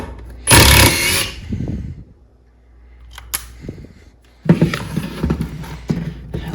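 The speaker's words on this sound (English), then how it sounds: "Let's see how fast this goes in with the triple hammer." A power tool whirs in short bursts, then a Metabo HPT triple hammer impact driver hammers rapidly as a screw is driven in, loud and close.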